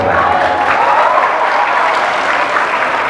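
An audience of young students at an Isra' Mi'raj gathering claps, loud sustained applause filling the whole moment at an even level.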